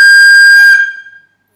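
Tin whistle sounding one loud, piercing high-octave note, sustained steadily for under a second before fading out, alone with no talk.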